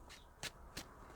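A deck of tarot cards shuffled by hand: three quick, crisp riffling bursts spaced apart, close and fairly quiet, with no voices.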